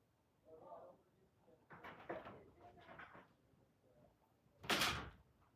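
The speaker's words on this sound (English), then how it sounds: "I'm just gonna close the door." A door is shut indoors with a single sharp, loud thud near the end, preceded by a person talking in a room.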